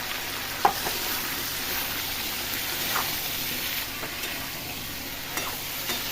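Potatoes and pointed gourd fry with turmeric and salt in a pan, giving a steady loud sizzle with occasional stirring clicks, close up.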